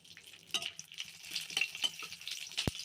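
Dry red chilies, cinnamon, bay leaves, cardamom and cloves frying in leftover fish-frying oil, a soft crackling sizzle with scattered pops and a brief utensil clink near the end.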